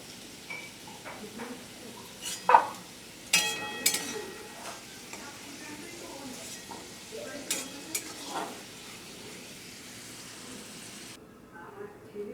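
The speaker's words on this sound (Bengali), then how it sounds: "কড়াইয়ের এই তেলের মধ্যে আমি জিরা ফোড়ন দিয়ে দিলাম" Cumin seeds sizzle steadily in hot oil in a wok with a bright hiss, broken by a few sharp clinks and scrapes of a spoon against the pan early on, then settles to a softer crackle.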